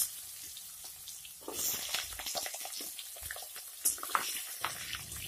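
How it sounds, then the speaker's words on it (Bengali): Cut potatoes fry with dried chillies, bay leaves and panch phoron spices, producing a soft sizzle under irregular scraping and clattering as they are stirred in the pan, close and moderately quiet. "আলুর কাঁচা গন্ধ চলে যাওয়া পর্যন্ত হালকা একটু নেড়ে চেড়ে ফ্রাই করে নিতে হবে"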